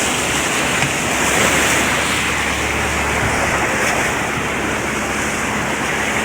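Rough Pacific Ocean waves surround a small fishing boat in strong weather, making a loud, continuous rushing roar of water and wind that stays unbroken throughout, with no voices.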